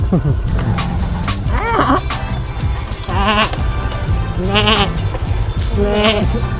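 Goats bleat several times in wavering, nasal cries over a steady low engine hum, one call following another at irregular intervals.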